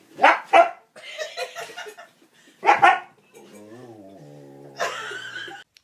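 A dog gives several sharp, loud barks close by, broken up with short whines or yelps and some noisy background sounds in between.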